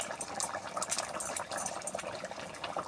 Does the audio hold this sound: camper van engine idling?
no